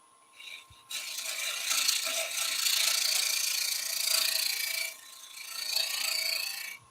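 A draw cut on a woodturning lathe, clearing waste from spinning wood: a loud, continuous scraping rasp in long strokes with a brief pause near the end, close up and with no talk.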